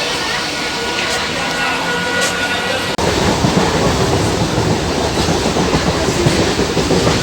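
A train from Ranaghat rumbles and clatters along the rails, close and steady, growing noticeably louder partway through.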